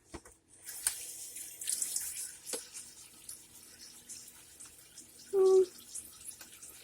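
A kitchen tap runs briefly while a bar of melted soap is test-washed, with a short burst of water up close, with faint handling noises before it.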